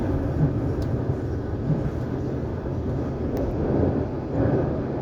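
A London Underground District Line train runs steadily toward Acton Town, its low, constant rumble of wheels and motors filling the carriage with slight swells in loudness and a couple of faint high clicks.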